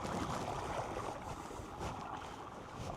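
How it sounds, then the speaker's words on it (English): Water rushing and churning in a steady, fairly loud wash around a small boat, with wind noise on the microphone, no voices. "Oh, now we got some water going"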